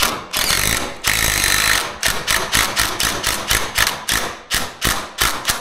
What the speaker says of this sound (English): as long as you drill a pilot hole first